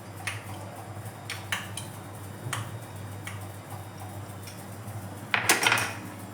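Paratha dough being mixed in a bowl, with light intermittent clicks and taps of a utensil against the bowl over a faint steady hum and a brief louder scrape near the end, no voices.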